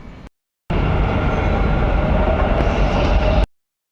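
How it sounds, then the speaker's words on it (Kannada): Riding a Bangalore metro train: a loud, steady rumble and rush of a moving carriage, briefly cut off at the start and then continuing unbroken for about three seconds, with no voices. "6 ಮಂತ್ಸ್ ಆದಮೇಲೆ ಮತ್ತೆ ಮೆಟ್ರೋದಲ್ಲಿ ಹೋಗ್ತಾ ಇರೋದು ಇವಾಗ"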